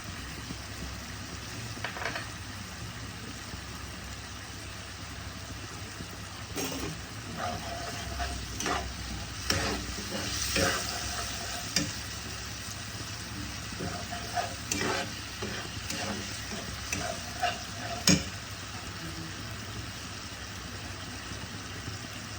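Chili powder and curry leaves sizzle in hot oil in a pan while being stirred. A constant frying hiss sits under intermittent scrapes and clinks of the spoon, close and fairly loud.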